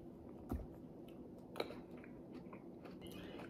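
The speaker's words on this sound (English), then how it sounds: "I only eat crunchy grapes." Close, quiet chewing of crunchy grapes, with a couple of sharp crunchy bites and softer mouth sounds between them, no talk.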